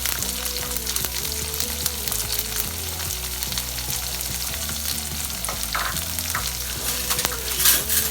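Spring onions, red chilies, curry leaves and rye frying in a hot oil tempering, giving a loud, continuous sizzle with crackling spits close by and no talking.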